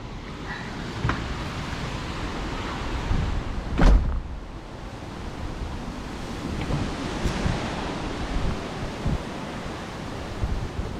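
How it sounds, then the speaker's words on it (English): Hurricane Ian's wind rushes outdoors in a relatively sheltered spot, a steady broadband roar buffeting the microphone with a few sharper gusts and clicks, no voices. "Obviously open area have much worse wind"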